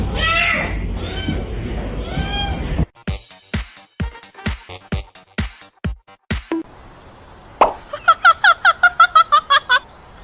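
A cat meows in a funny pets montage, with a sequence of short, sharp repeated cries mid-clip, followed by a quick run of rapid, high chirping calls. An earlier segment holds a different noisy sound with faint tones.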